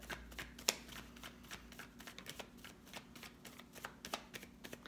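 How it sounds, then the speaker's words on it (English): A deck of tarot cards is shuffled steadily, a rapid patter of soft flicks and snaps, close and quiet, with no talking. "I try not to talk while I'm shuffling the cards"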